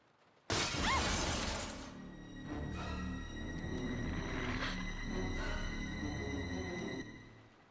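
A sudden loud crash of shattering and breaking in the Resident Evil 0 video game, followed by lingering clattering debris and a sustained rumbling wash of sound that fades out after several seconds.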